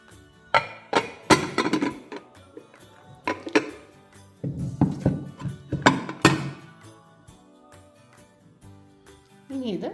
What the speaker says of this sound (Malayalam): നമ്മുടെ ഹൽവ നമുക്കിനി കട്ട് ചെയ്യാം.